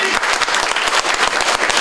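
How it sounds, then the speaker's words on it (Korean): A lecture audience breaks into loud, sustained applause, with dense rapid clapping close by and no voices on top. "다시 한번 뜨거운 응원의 박수를 부탁드리겠습니다"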